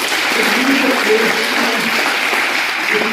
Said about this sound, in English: First of all, clap for her.